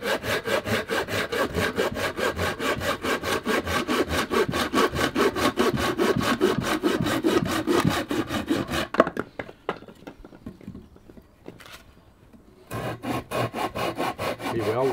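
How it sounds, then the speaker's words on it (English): A Samurai hand saw cuts deadfall sycamore wood into sections, with fast rhythmic rasping strokes up close, a brief pause near the end, then sawing resumes. "We've sawn the wood into sections."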